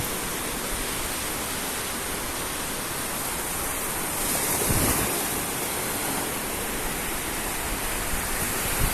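Sea surf washing onto the shore in South Goa, a steady broadband roar with a slightly louder surge midway, no voices.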